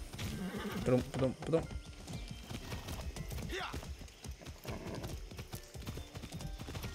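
Horse hooves clip-clop repeatedly in Far Cry 6, a steady rhythmic trot carrying on under game sounds, a brief whinny-like call and occasional talk.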